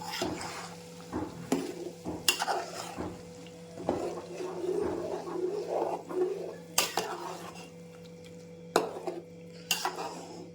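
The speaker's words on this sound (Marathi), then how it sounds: "व्यवस्थित सगळं मिक्स करून घेऊया" Homemade ayurvedic hair oil is stirred in a pan with a utensil, making intermittent scrapes and sharp metallic clinks over a faint low sizzle, close and fairly quiet, with no speech.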